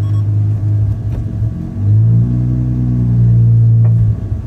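A Mazda RX-7 rotary engine runs on the road, a loud, low droning hum that dips briefly then swells steadily as the car pulls along, heard close with no talking.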